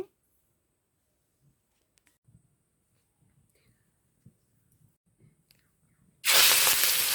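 Shrimp coated in turmeric and salt hit hot oil with a sudden loud hiss near the end, after near silence broken only by faint clicks and light handling sounds.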